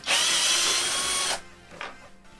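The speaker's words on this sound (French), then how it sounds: "perceuse, douille de 10" Power drill with a 10 mm socket backing out the screws of a motorcycle battery cover: a loud high whir for over a second, then stopping, followed by a brief faint scrape.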